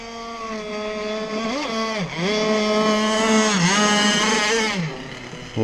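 A rebuilt Zenoah marine engine, untuned, runs loud and close in a rough, raspy drone, its revs dipping and surging a few times before easing off near the end.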